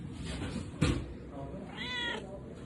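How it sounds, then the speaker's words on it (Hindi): A mother cat with newborn kittens gives a short, clear meow near the end, close by, after a sharp knock and over faint room noise. "हमारे घर में ना परसों बिल्ली ने बच्चे दिए 4-4"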